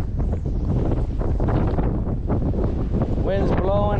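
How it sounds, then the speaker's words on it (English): Strong wind buffets the microphone beside a state lake in Kansas, a steady broadband roar that runs the whole time with someone talking over it. "Wind's blowing like hard,"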